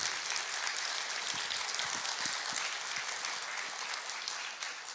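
Church congregation applause during a sermon, a soft, continuous patter of many hands heard from a distance, rain-like and even, tapering slightly at the end.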